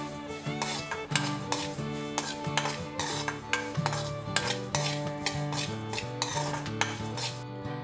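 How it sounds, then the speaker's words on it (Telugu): Cumin seeds dry-roast without oil in a pan for Rayalaseema-style peanut podi, with a spoon scraping and clinking against the metal in a steady rhythm under continuous background music. "జీలకర్ర కూడా అదేవిధంగా పచ్చివాసన పోయే వరకు ఫ్రై చేసుకోవాలి"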